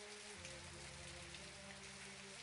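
Rain falls steadily in the murder-mystery video game And Then There Were None, a faint even patter over a low, droning musical backdrop.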